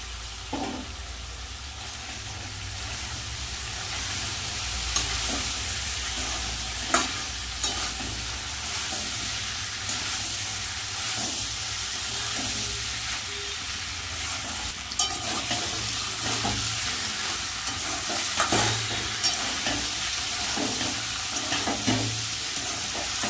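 Fried potato and jackfruit stirred into hot spiced oil while cooking a jackfruit curry, sizzling steadily with scraping stirs and occasional clinks of the spoon against the pan, close and continuous with no talk.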